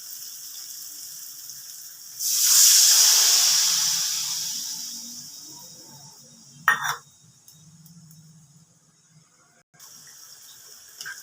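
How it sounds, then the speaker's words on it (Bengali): Garlic curry gravy with water just added comes to a boil in a pan for rui fish, giving a loud, steady sizzling hiss that swells at once, slowly fades, then drops to a quieter bubbling with a couple of sharp clinks near the end. "ঝোলটা ফুটে উঠেছে"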